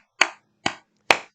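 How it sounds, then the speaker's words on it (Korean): Three sharp, distinct hand claps ring out at an even pace, close and clean with short decays in a quiet room, given by a church congregation in thanks to God. "우리 하나님께 감사의 박수를 한번 올려드릴까요?"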